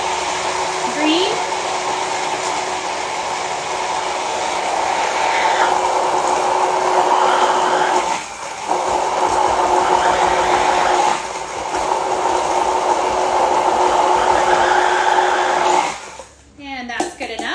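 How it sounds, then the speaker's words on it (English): Kitchen blender whirring a pear, mint and ginger bug drink into a smooth blend, a loud sustained motor whine with brief dips in pitch as the load shifts, cutting off near the end; a voice speaks briefly over it. "You want it to be really nice and blended."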